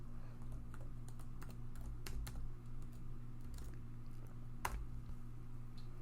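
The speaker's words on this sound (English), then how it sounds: "So I'll just type duckduckgo.com." Keys clack on a computer keyboard while a web address is entered, quick irregular bursts of soft clicks close to the mic over a low steady hum, with no voice.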